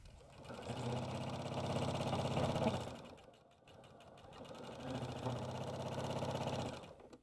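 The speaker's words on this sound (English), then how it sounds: "We're going to stitch around the sides and the bottom and up this side." A sewing machine stitches along the sides and bottom of a fabric tote bag in two sustained runs of rapid, steady whirring, close and fairly loud, with a short pause between.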